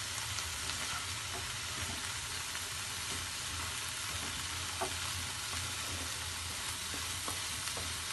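Chopped greens (saag) with peas fry in a pan for an Odia pure-veg dish cooked without onion or garlic. The sizzle is loud and constant, with occasional small pops and stirring scrapes.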